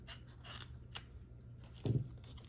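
Scissors snip through card paper to trim off the bottom edge, a single crisp cut that lands near and fairly clear after a few soft papery rustles.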